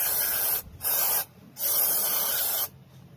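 An aerosol can of CVT cleaner sprays in three bursts of steady hiss separated by short pauses, close and loud, with the longest burst in the middle and no talking.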